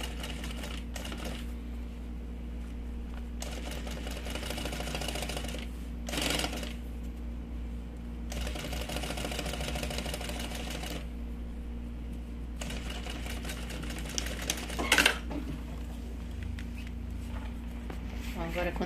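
Sewing machine stitching a bag lining over an existing seam, a fast continuous mechanical whir running in long bursts with brief pauses between them, close and steady, while someone talks over it.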